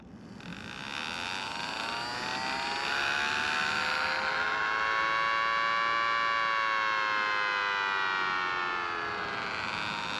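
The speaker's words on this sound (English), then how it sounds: "The siren will wind up and will operate as long as the test button is held," A mini Thunderbolt siren under test winds up steadily, its wailing tone rising and holding loud for several seconds before beginning to slide down, with a whirring motor underneath.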